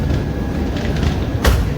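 Jhelum Express train pulling out of Burhanpur railway station, a loud steady low rumble with a brief sharper rattling burst near the end.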